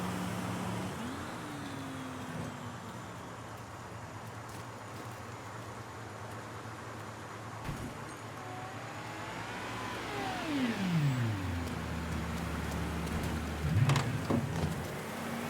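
A car engine in Mafia 3 idles with a steady low rumble, then revs hard around the tenth second and sweeps upward in pitch before settling back. A sharp hiss and clank follow near the end, with no talking over it.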